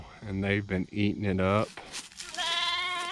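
Farm goats give a bleat near the end, after someone speaks close by.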